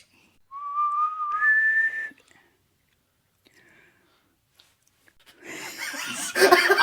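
Someone whistles two short rising notes up close. After a pause come breathy, rustling noises.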